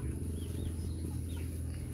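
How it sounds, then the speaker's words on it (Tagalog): Native chickens on a Batangas farm clucking softly and intermittently over a steady low background hum, with no voices. "Mga manok."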